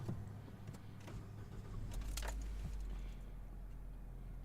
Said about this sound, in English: let's crank it over, and then I'm going to stay quiet so we can listen to any abnormal noises and see how it starts